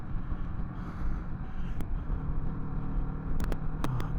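Steady engine and road rumble from a Kawasaki Vulcan S 650 motorcycle ridden along a loop road, heavy wind buffeting over it throughout, with a few sharp brief clicks near the end.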